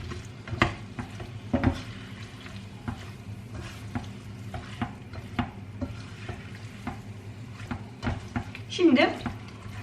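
A tomato paste mixture stirred in a pan with a utensil gives irregular scraping and clinking strokes over a soft sizzle, close and moderately loud.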